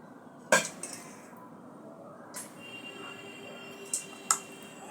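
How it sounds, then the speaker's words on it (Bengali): Halved rohu fish head and tail pieces go into a metal cooking pot for a Bengali recipe with Malabar spinach, with a few sharp clanks and clinks against the pot separated by quiet gaps. "প্রথমে পাতিল দিয়েছি, দিয়ে নেব মাছের মাথা দুফল্লা করা"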